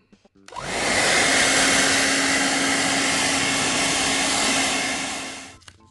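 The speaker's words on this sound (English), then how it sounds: "So you can see the benefit of using a hairdryer." A hairdryer blows steadily and loudly on retro game boxes to loosen price stickers, a continuous close whoosh with a faint steady whine, starting and stopping cleanly with no talk.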